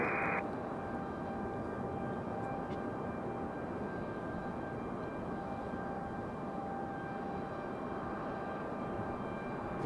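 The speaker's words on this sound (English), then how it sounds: "Now our A321 headed to Charlotte." Airbus A321 airliner at Raleigh-Durham International Airport, a steady, loud broadband jet roar that holds evenly from start to finish, with a faint high whine running under it.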